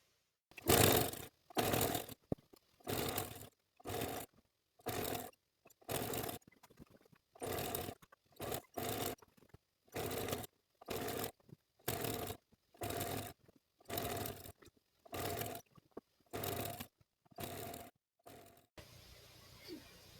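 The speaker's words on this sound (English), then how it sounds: "I'm going to sew down this side." Sewing machine stitching down binding on a quilt, sped up into a fast series of short whirring bursts with brief gaps, loud and close, in a steady repeating rhythm.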